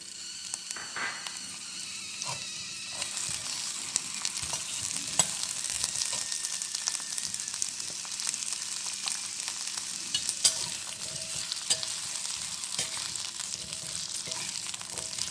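Garlic and ginger frying in a pan with a bit of coconut for mutton chops, a steady close sizzle under frequent scraping stirs, with no voices.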